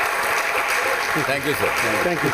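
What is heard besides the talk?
audience applause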